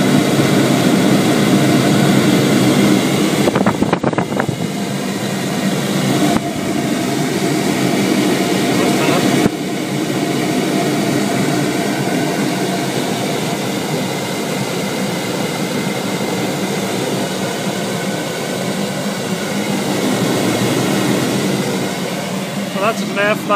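Flowbench pulling air through a TVR intake plenum, a loud, steady broadband roar of rushing air lasting throughout, with brief clunks and handling knocks early on.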